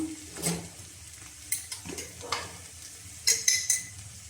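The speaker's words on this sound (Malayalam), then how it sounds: "നമ്മുടെ സവാളയൊക്കെ നന്നായിട്ട് വഴന്ന് വന്നിട്ടുണ്ട്" Onions sautéing in a pan, with a low background sizzle broken by several short scraping stirs of a spoon or spatula against the pan, close and fairly quiet.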